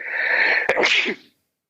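A single loud, close sneeze bursts out with a sharp explosive peak, then fades into a short breathy tail before silence.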